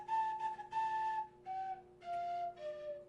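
A whistle sounds in several short, steady toots with brief gaps between them, fairly quiet and alone, the pitch sliding down slightly on the later blasts.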